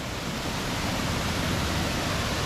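Water pours over a waterfall and rushes down a backwoods stream in Pennsylvania, a loud, steady broadband roar that holds constant throughout with no voices.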